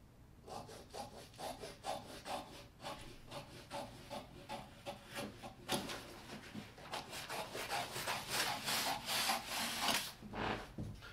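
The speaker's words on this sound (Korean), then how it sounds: "자, 일자로 간 다음에 잘라줄게요." Scissors cutting fabric for a jacket sleeve, a rhythmic series of close, scratchy snips and rustles repeating steadily throughout, with no talk.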